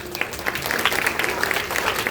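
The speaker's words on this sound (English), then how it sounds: "I would request everyone to give a big round of applause" An audience at a school morning assembly applauds students, a brief burst of steady clapping that sounds moderately distant and continuous.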